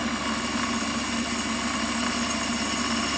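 A Warco metal lathe runs steadily through a finishing cut while turning an expanding mandrel, giving a continuous, even motor hum and machine whine at close range with no break and no talk.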